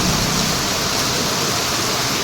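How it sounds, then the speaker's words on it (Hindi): Heavy rain falls in Jaipur, a dense, loud, unbroken hiss of downpour with no voices over it. "तो ये देखिए कितना अच्छा बारिश हो रहा है।"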